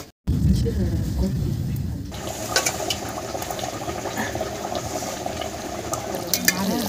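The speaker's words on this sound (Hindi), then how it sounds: "बस अब पानी डाल के इसको थोड़ा सा और बुलबुला कर देंगे" Mutton curry in a pot, with water poured in to boil. Loud sizzling and frying at first, then a softer bubbling simmer with occasional clinks and stirring.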